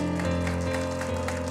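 A church congregation claps together in a steady, dense patter like rain, sustained throughout with a held tone underneath.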